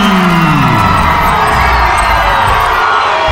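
A loud lucha libre crowd at an AAA show in Ecatepec cheers and shouts in a dense, constant roar that stays at full level without a break.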